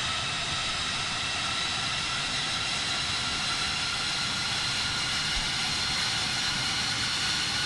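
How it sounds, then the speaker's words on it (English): F-16 fighter jet engines run steadily just after start-up in a flight simulator game, producing a continuous, even, hissing whine that holds at a moderate level throughout with no talk. "Alright, the engines are pretty much started up."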